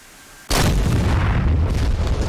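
A Mark 83 1,000-pound bomb explodes in a war video game, a sudden heavy blast after half a second of quiet, followed by a loud sustained rumbling roar, no talking.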